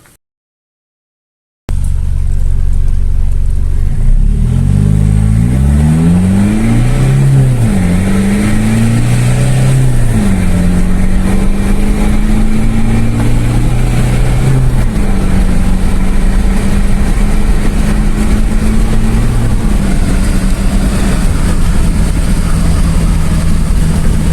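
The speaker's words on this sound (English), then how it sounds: "let's take it for a test drive" A turbocharged Isuzu 3.0L DDI diesel with a stainless exhaust, heard from inside on a test drive: after a brief silence the engine runs loud and continuous, rising and falling through several gear changes under steady road drone.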